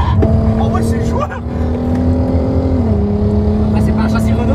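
A Volkswagen Golf 5 R32 engine drones steadily while driving, a loud continuous hum with a slight pitch shift midway, with people talking over it inside the car.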